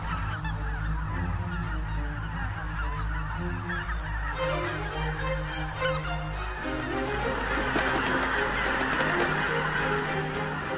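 A large flock of geese honks continuously in the Biebrza Valley wetlands, Poland, many overlapping calls close and loud, forming a dense, noisy chorus that builds toward the end.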